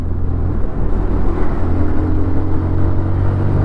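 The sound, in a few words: TVS Apache RTR 160 motorcycle engine while shifting gears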